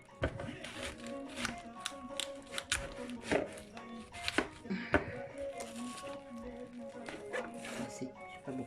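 A knife cuts a cabbage in half in a home kitchen, with repeated crisp chopping strikes at an uneven pace close by, mixed with clatter and quiet talk.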